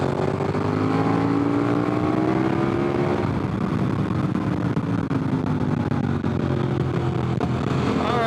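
Dual sport motorcycle on Heidenau K60 Scout tires accelerating hard on a road, the engine roaring loudly with rising pitch as the revs climb, steady and close throughout.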